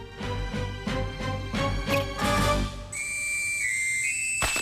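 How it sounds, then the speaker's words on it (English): A cartoon nose flute plays a shrill, whistling melody up close, first in short wavering notes, then in long sustained tones that end in a sudden sharp burst. "Snot, the nose flute!"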